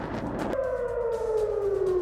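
Air raid alert siren wailing in southern Israel, a steady rising tone that holds and slowly drifts lower, loud and sustained over faint background noise.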